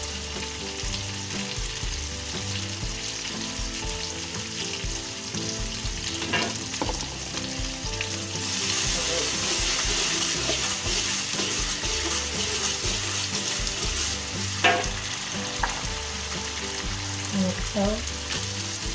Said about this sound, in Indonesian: masukkan bawang bombay